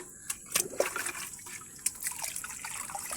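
Tap water running into a guppy tub during a water change, a splashy, gurgling rush with bright spattering bursts, close and steady, with no talk.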